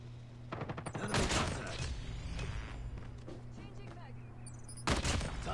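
Bursts of automatic fire from the MX9 in Call of Duty Mobile, a rapid rattling volley early, a long stretch of shots and game noise, then another sharp burst near the end.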